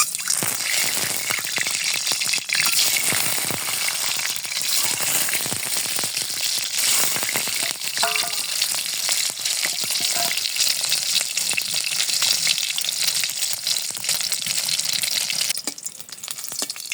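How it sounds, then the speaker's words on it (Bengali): An egg fries in oil in a wok with a loud, dense crackling sizzle that holds steady for the whole stretch, close by and with no voices, thinning slightly near the end. "কড়াইতে তেল দিয়ে ডিম ভাজি করুম"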